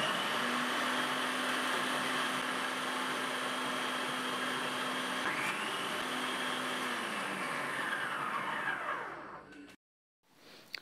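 A Butterfly Cresta food processor with its thick slicing blade hums loudly and steadily while slicing cabbage, its motor pitch shifting slightly before it winds down and stops near the end, leaving a brief silence.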